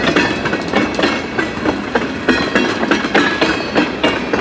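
Westbound CN train passing close by in Emmett, Michigan, loud rumbling with a steady clickety-clack of wheels over rail joints.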